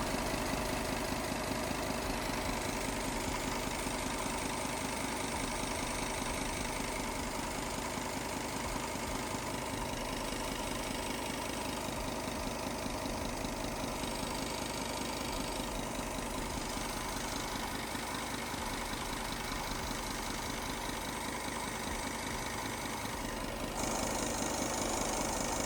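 A Volkswagen Touareg V10 TDI diesel engine idling with a leaking exhaust manifold, a steady, even mechanical drone with a ticking edge, heard up close with no talking.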